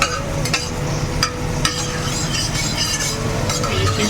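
Prawns frying in a home kitchen pan give a steady sizzle, with a few sharp clinks and scrapes of stirring over the continuous crackle.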